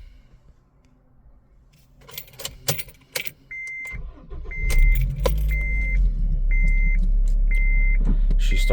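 A 2006 Acura RSX Type S starts after keys jangle and warning chimes beep, its engine catching and settling into a steady, close idle with no talk over it.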